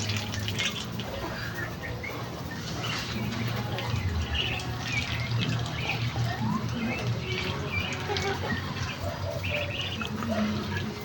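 One-month-old ducklings squawking and peeping in a backyard pen, a busy overlapping chorus of calls that continues throughout, with some splashing water and background noise.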